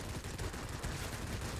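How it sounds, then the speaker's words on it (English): Paired 20mm aircraft cannons fire from a fighter plane in World of Warplanes as a fast, unbroken stream of rattling shots, fairly faint and steady throughout. "when I was firing my 20mm cannons at that incoming enemy fighter"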